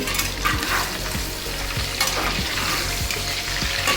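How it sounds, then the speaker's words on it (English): Mutton karahi with salt being stirred in a hot pan: a continuous loud sizzle and frying hiss, with regular scraping strokes of the spoon roughly every half second and no voices. "Add some salt. Not much, little. Now mix well."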